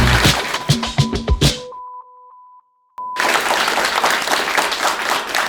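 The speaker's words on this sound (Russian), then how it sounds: "Мы начинаем под ваши аплодисменты после небольшой паузы." Studio audience applause at a comedy news show: loud, dense clapping that cuts off into a short beeping tone and silence, then resumes full and steady.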